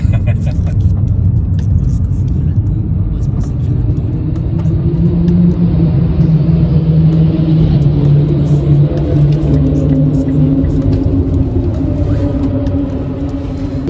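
An Audi R8 LMS race car at the Le Mans circuit, heard from inside as the engine drones in a loud, steady roar with a low rumble that shifts in pitch, with no break throughout.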